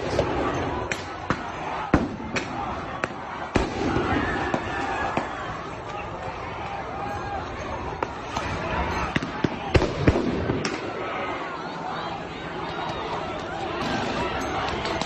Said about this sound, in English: you could hear them firing now their rubber bullet guns